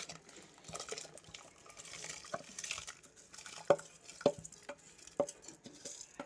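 Rice being stirred in a cooking pot with a ladle, quiet scraping and swishing with several sharp metallic clinks against the pot, over a low simmering background.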